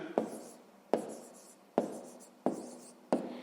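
Five sharp scratchy strokes of pen or chalk writing numbers for a fifth-grade maths exercise, each a distinct tap-and-scrape spaced under a second apart, close and clear with no talking.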